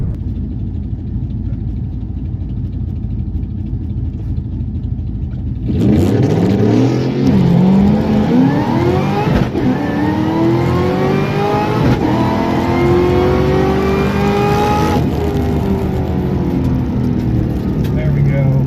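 A Ford GT500 launches hard and slams through its gears, the engine note suddenly bursting loud from a steady idle, then climbing in rising sweeps broken by sharp shift cuts, heard up close from inside with a voice over it.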